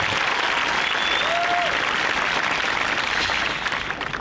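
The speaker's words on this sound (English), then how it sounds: "Round of applause for them" A large crowd at the Allentown High School 2025 graduation gives a dense, sustained round of applause, loud and even throughout with a faint whistle mixed in.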